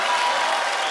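A brief, dense wash of studio audience applause on The Kapil Sharma Show, loud and continuous, with no distinct voices.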